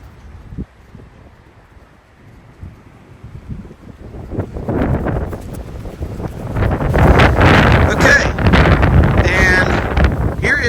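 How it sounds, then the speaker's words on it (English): Heavy wind buffeting against the microphone, a low rumbling roar that starts fairly soft and builds into loud, gusty blasts in the second half. "It's a little windy today, so bear with me"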